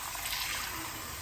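Water pours into a bowl, a short steady rushing and splashing stream with no talk.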